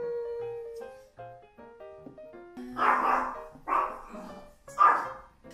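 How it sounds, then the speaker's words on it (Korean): A small dog barks in several sharp, close bursts indoors, following a stretch of soft tonal music, with the yaps growing louder toward the end. "짖는 토토를 데리고 왔어요."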